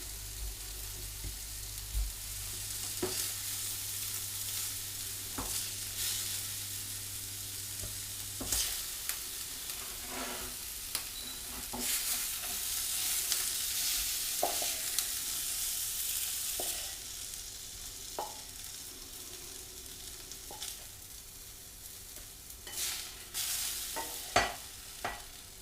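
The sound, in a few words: meatballs browning and sizzling in a hot frying pan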